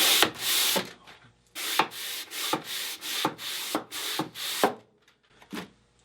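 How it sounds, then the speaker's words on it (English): A hand sanding block scrubbed over wooden furniture gives a series of close, rhythmic rasping strokes in bursts, about a dozen back-and-forth passes with short pauses between them. "I'm going to just continue on and using that hand block to sand"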